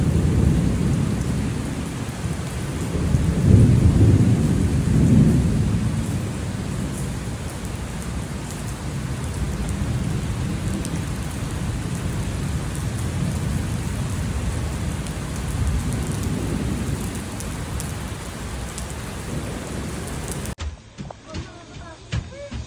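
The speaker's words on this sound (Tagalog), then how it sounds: "Ingat kayo, lakas ng ulan." Heavy rain pours steadily and loudly at a hillside resort, with deep rumbling thunder rolling in early on and again later, and no talking.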